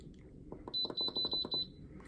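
An Instant Pot multicooker gives a run of about eight quick, high electronic beeps as its yogurt setting is selected, loud and close. A few soft clicks come before the beeps.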